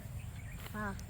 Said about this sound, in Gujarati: મોરનો અવાજ સંભળાય છે